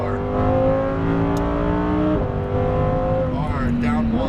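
A Lamborghini Huracan Performante on a race track accelerates at full power, its engine note climbing steadily through the gears in a loud, continuous roar, with a brief shift dip midway.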